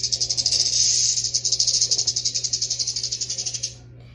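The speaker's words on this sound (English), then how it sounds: "Hissing like a boa constrictor" A boa constrictor hisses in one long, loud, pulsing stream that fades out after nearly four seconds, heard alone and close over a faint low hum.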